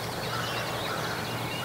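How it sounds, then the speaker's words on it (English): Wild turkeys, including a long-bearded tom, gobble at dawn in Pennsylvania woods, overlapping rattling calls carrying from a distance over dense, noisy outdoor ambience. "They've been gobbling nonstop for over half an hour now."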